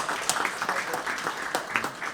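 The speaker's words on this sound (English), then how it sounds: "I think we should give them a round of applause." Applause from the audience at an NGO forum anniversary event in Banjul, a moderate, fairly distant patter of clapping with a few sharper individual claps standing out.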